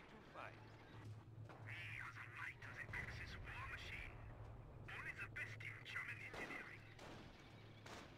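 A machine gun bunker fires in a strategy video game, with bursts of gunfire and distant battle noise running under continuous commentary.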